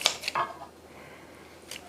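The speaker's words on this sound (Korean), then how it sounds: "고기가 너무 두껍기 때문에 이런 건 조금 한번 가위로 이렇게 잘라주는 게 좋아요." Kitchen scissors snip through thick braised beef short ribs, a few quick crisp cuts clustered near the start and one more at the end, close and fairly quiet with no talking.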